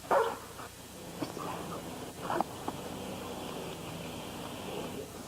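A dog gives a few short barks and yips on a speak command indoors, moderately close, with quiet gaps between the bursts.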